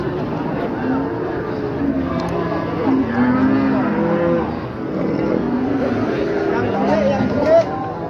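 Cattle low and moo among the crowd at the Wagenan livestock market, with steady nearby talking and general market babble running throughout.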